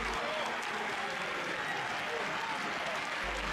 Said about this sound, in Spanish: Llega el momento de los aplausos y... la primera ovación de la tarde es para Wilmar Barrio